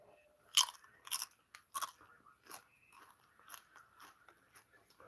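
Someone bites and chews refrigerated Doritos up close, making sharp, crisp crunches. The crunches come in an irregular series, loudest at the start and softer as the chewing goes on, with no one talking.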